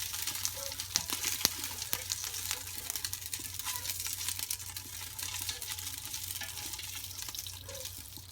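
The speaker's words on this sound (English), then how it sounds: "is getting pretty hot, so it should start sizzling here in just a second. I'm gonna add all the peppers now." Hot peppers fry in a hot pan for homemade hot sauce, a steady low sizzle with occasional clicks and scrapes of stirring, fairly quiet and without talk.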